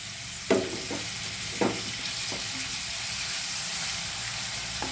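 Chopped onion and tomato fry in a pan over high heat, giving a steady close sizzle with a few short scraping stirs early on.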